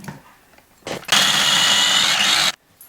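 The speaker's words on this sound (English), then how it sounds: "Now I'm going to turn the garlic, ginger and chilies into a paste in the blender here." Countertop blender whirring steadily for about a second and a half as it purées garlic, ginger and chili into a paste for keema peas, preceded by a brief start-up burst and ending abruptly.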